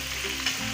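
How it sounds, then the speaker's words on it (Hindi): Onions and tomatoes fry in oil for mutton nihari, a steady, close hiss of sizzling with light stirring throughout the brief moment. "अभी प्याजों और टमाटर को अच्छी तरह जो है हम भून लेंगे।"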